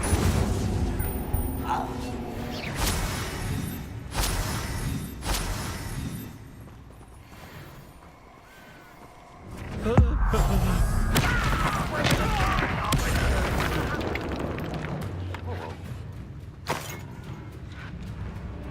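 Incendio fire spell blasts in Hogwarts Legacy, several booming bursts and thuds over a busy battle soundscape, with a voice talking throughout.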